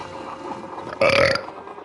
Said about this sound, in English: I'm burping like crazy